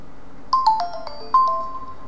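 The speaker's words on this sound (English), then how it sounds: "it's popped up a toast notification in Windows Phone 7 with the name of the application, and says Dan Mitch played law for 6 points." A Windows Phone 7 toast notification chime, a short bright multi-note electronic tone heard twice in quick succession, clear and alone against a quiet background.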